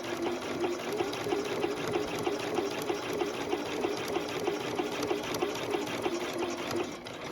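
A sewing machine stitches in the ditch along a quilt seam, running steadily at a fast, even rhythmic pace for several seconds, fairly quiet and close, with no talking.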